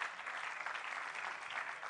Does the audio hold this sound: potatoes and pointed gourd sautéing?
no